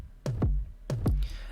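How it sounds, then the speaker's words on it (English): Kick drum sample from a music production project, two deep punchy thumps about two-thirds of a second apart with low booming tails, playing alone. "I use this kick drum here."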